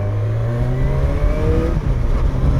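A Yamaha 900 Diversion motorcycle engine pulling hard under acceleration, a loud continuous rising drone heard close up from the rider's position, with no voices.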